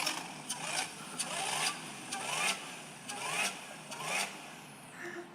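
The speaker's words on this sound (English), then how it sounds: "I only became a fan of this car because the supercharger made the right noises." A car engine revs repeatedly in rising surges with a whining supercharger edge, each burst climbing then dropping back, fairly close and loud.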